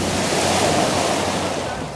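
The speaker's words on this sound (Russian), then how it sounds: "Вот такие волны тут." Sea waves wash onto the shore at a Turkish seaside resort, a loud, constant broadband rush of surf with some wind, steady throughout.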